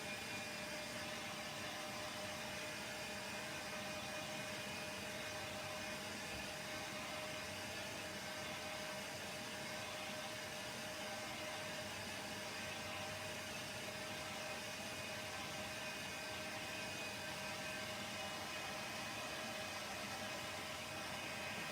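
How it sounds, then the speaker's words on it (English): A small hair dryer blows continuously while drying a paint brush, giving a steady, even whooshing hum with a faint tonal whine that runs unchanged throughout. "Get my little hair dryer and dry that"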